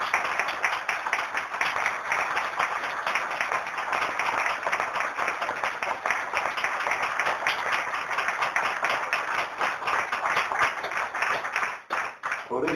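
Church congregation applauding the Lord together during a Spanish-language sermon, a dense, steady wash of clapping that fills the room for most of the stretch and thins briefly near the end.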